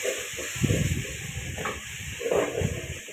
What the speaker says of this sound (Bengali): আরও দরকার পেঁয়াজ দেওয়া হয়ে গেছে, পেঁয়াজ কষাইয়া দিছুন